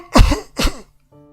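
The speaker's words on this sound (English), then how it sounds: "I'm here coughing like a hag." A video game character coughs twice in quick succession, harsh and close, followed by a brief faint tail.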